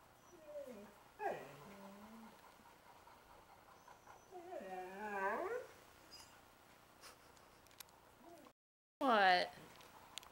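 A dog frightened by a robot bug gives several high, wavering whimpers in separate bursts, fairly close and quiet, with short pauses between them and one louder cry at the end.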